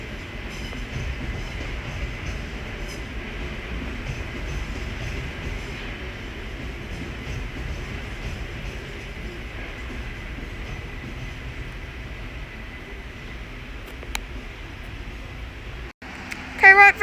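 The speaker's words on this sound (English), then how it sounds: "Right there is the 12:05 London Overground service from Clapham Junction to Stratford" A London Overground Class 378 electric train passes through Willesden Junction, with a steady low rumble and rolling wheel noise at moderate distance. The sound holds fairly even throughout and ends with a brief bump or clatter.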